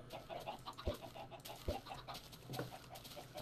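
Chickens cluck softly and steadily on a Minecraft chicken farm, a dense overlapping chorus of short clucks with a few sharper knocks mixed in.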